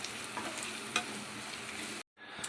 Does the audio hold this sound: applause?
no